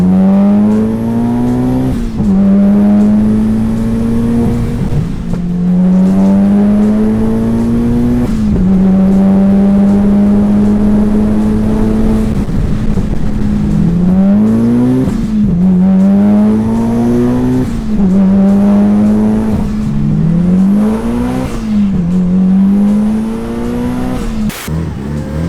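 A highly modified Mitsubishi Evo drives hard, its engine revving up through the gears in repeated rising pulls with shift breaks, loud and close throughout with no talk.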